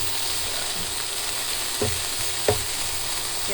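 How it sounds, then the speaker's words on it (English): Onions and peppers softening in a skillet for keto Philly cheese steak, a steady close sizzle with a few distinct stirring scrapes around the middle, no voices. "Give those a stir."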